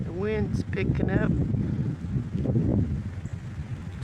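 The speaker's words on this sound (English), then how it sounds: "The wind's picking up." Wind gusting outdoors as a rainstorm with lightning moves in, a low rumbling buffet across the microphone that rises and falls throughout, with a voice heard near the start.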